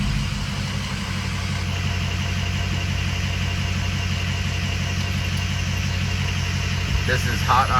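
A hot car engine idles with a steady, even rumble, close and continuous throughout, with a faint high whine above it.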